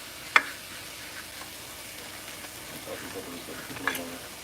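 Rice stirred in a hot skillet during an at-home hibachi cook gives a faint, steady sizzle with a few sharp scraping clicks from the utensil, quiet and close, with no talking.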